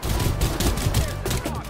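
Gunfire in the battle royale game Farlight 84, a dense burst of rapid shots rolling through the whole moment, loud and close with no voice over it.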